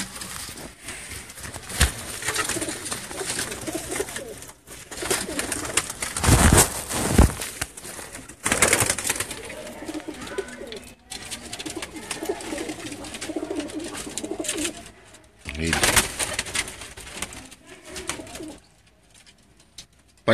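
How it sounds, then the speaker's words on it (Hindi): Pigeons coo in low, soft bursts with occasional wing flutters, fairly close, over a steady background; no talking. "हीउ सियाह कारो कबूतर आहे अनारी अख में।"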